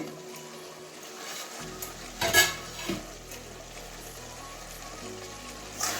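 Cooked bean, potato and carrot curry stirred in a pan, with a short burst of spoon-scraping clatter in the middle over a quiet kitchen background.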